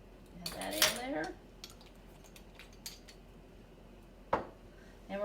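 Cobbler batter being stirred in a bowl with a utensil, giving a few scraping, clinking knocks in bursts with quieter stretches between them.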